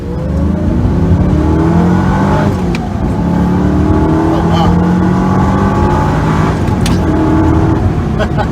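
A 2005-2006 Ford GT supercar engine revs hard toward redline, a loud continuous roar with rising harmonic sweeps and brief dips at gear changes, steady throughout at close range.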